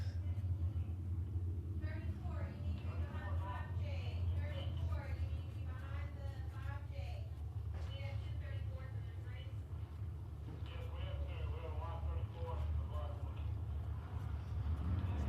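Thunder cars accelerating on the green flag in a speedway heat race at Big O Speedway produce a continuous low engine rumble, with a voice talking over it throughout.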